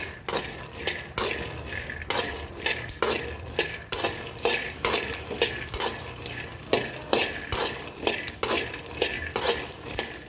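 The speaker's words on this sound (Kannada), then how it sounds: "ಚೆನ್ನಾಗಿ ಮೊದಲು ಶೇಂಗಾ ಕಾಳು ಹುರ್ಕೊಳ್ಳೋಣ" Peanuts dry-roasting in a pan are stirred in a steady rhythm, each pass bringing a rattling scrape of nuts and utensil against metal over a low background hiss.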